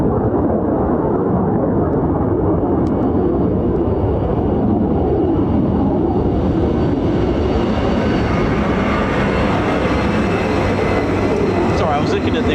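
A US Air Force KC-135 passes overhead, a loud continuous broadband jet roar that swells and shifts in tone over several seconds, with no clear voices over it.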